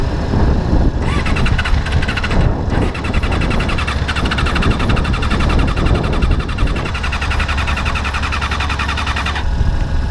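A GSX-R600-engined offroad buggy running close and loud with fuel starvation: a continuous harsh, buzzing engine note that wavers and stutters unevenly throughout, with a high whining tone over most of it.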